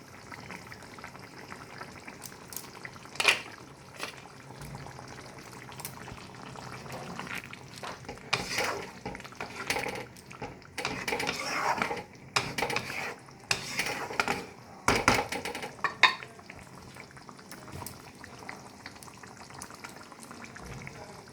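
Yakhni paneer gravy simmering and bubbling in a pan, a steady low burble with scattered clinks and scrapes of utensils against the pan throughout.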